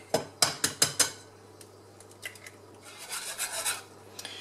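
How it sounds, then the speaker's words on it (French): Eggs are cracked open for a lemon tart, a quick run of four or five sharp, close taps at the start followed by softer scraping and shell handling sounds. "je vais casser mes œufs ici"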